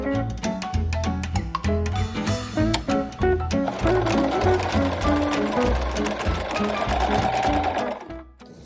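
A sewing machine stitches bust darts on 1930s-style beach pajamas made from a pattern. Rapid, close, rhythmic needle chatter runs in bursts, then stops near the end, with no voices.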